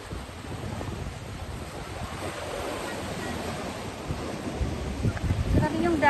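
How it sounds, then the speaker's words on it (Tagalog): Sea waves surge and wash against a rocky shore with wind buffeting the microphone, building louder toward the end. "Grabe yung dagat."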